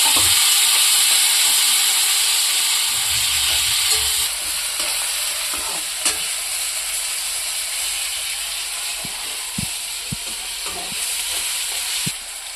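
Chilies and tomato fry in a hot pan for poha, a loud steady sizzle and hiss with occasional scraping and clinking as the mix is stirred, the sizzle easing slightly over time.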